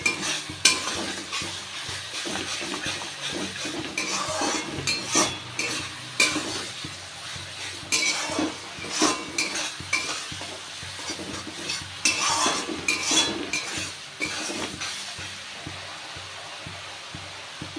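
Curry masala with garlic sizzles in oil in a pan while a spoon scrapes and stirs it, a steady frying hiss broken by repeated close metallic scraping strokes, with no talk.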